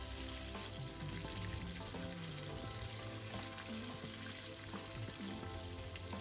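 Tofu and tempeh deep-fry in reused oil in a home kitchen, giving a steady, dense close-up sizzle and crackle with occasional stirring clinks throughout.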